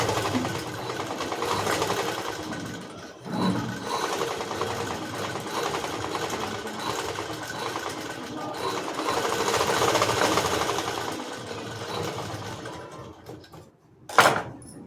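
A sewing machine runs steadily and close, stitching over gathered fabric pleats, with a brief pause partway through and a sharp click near the end.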